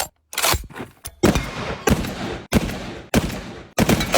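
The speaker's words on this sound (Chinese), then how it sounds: "接下来我要一口气把所有子弹全部打出去，" Barrett semi-automatic sniper rifle fired rapidly through its full magazine at an outdoor range: six heavy, booming shots in quick succession, each with a long ringing decay, loud and close with no talking.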